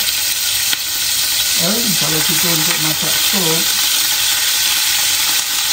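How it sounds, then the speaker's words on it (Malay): Beef sizzles and fries loudly in a pan for a noodle soup, a constant crackling hiss close by, while someone speaks briefly over it in the middle. "Yang kedua, kita goreng daging kita."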